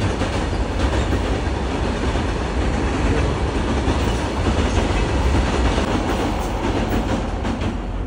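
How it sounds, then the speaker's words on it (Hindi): Trains pass beneath the overbridge at Pandit Deen Dayal Upadhyaya railway station, a loud, continuous rumble of rolling wagons with steady clickety-clack from the wheels and no talking. "और नीचे से जा रही है ट्रेनें देखो"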